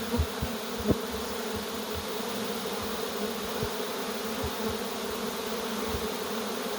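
A swarm of honey bees buzzes steadily and loudly throughout, a dense continuous drone with a few brief knocks near the start, heard up close in hot weather during swarm catching near acacia bloom.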